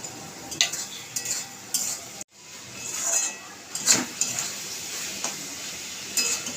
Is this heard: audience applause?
no